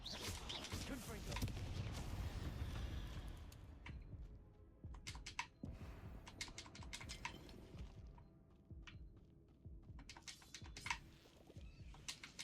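Confringo spell blasts in the video game Hogwarts Legacy, a dense burst of crackling explosions at first, then scattered sharp pops and bangs, with a voice talking over them.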